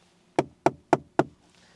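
Four evenly spaced, crisp knuckle knocks on the hard plastic door panel of a Renault Austral SUV, close and distinct, with silence on either side.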